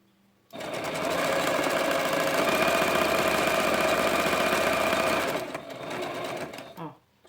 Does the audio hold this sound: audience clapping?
no